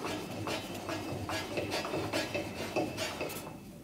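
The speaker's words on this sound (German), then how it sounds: "die Spaltkeilhöhe stellt man ganz einfach ein, indem man das Sägeblatt absenkt" The blade of a Hammer B3 table saw is cranked down to set the riving knife height, giving a series of soft ratcheting and metallic clicks from the mechanism up close, with no talking.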